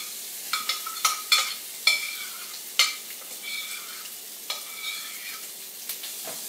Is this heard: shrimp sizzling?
yes